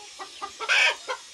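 A hen cackles after laying an egg, giving a few short clucks that build to one loud, drawn-out squawk before a final cluck, close and alone.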